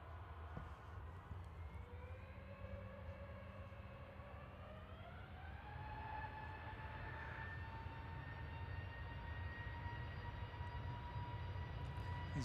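EasyJet airliner on its takeoff roll at Manchester Airport at night, engine whine rising steadily in pitch and building into a broad roar, heard from a distance without voices.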